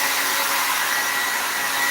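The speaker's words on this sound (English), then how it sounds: "if you don't have a regular dryer, use a blow dryer" Blow dryer heating hair wrapped under a plastic bag: a steady, loud, close airy whir with a constant motor hum, running without a break and no speech.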